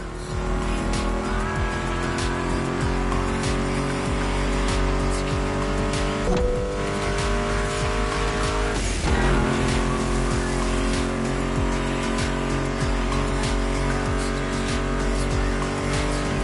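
Muscle cars racing in The Crew video game, with loud sustained engine drones holding steady pitches, a shifting surge partway through and tire squeals, all under a music track.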